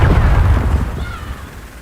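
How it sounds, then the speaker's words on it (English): A grenade explosion in Destiny 2, one heavy low boom at the start that rolls off into a fading rumble, loud and close. "Inbound grenade."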